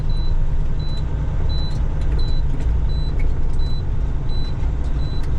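A semi truck spins its tires on a snowy hill during a blizzard, producing a loud, steady engine and tire drone with faint, evenly spaced high beeps repeating throughout.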